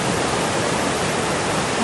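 A steady, dense rush of a waterfall in Lauterbrunnen, Switzerland, fills the whole clip, loud and unbroken, with no other sounds standing out.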